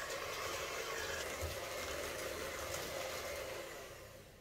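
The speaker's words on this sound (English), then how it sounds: "Now you can do this in a big bowl processor, but I really love my hand blender." Hand blender whirring through biscuit dough in a bowl, a steady faint motor hum with a gritty churning texture that holds evenly and tapers off at the end, heard alone without talk.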